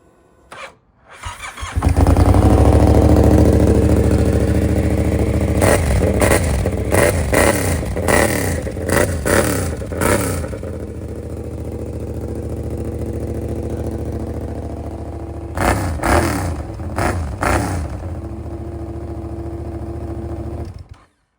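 A Yamaha MT-07 motorcycle, in poor condition, cranks with a brief starter whine and then fires into a loud nearby idle, blipped through a run of sharp revs, settling, then revved again in a few quick bursts before cutting off.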